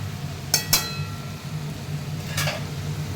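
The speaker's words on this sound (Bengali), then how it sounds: "এই যে ঢাকাটা দিয়ে দিলাম" A lid goes onto a cooking pot of mung dal and ash gourd, giving two quick metallic clinks close together and then a third a moment later, over a soft low kitchen hum.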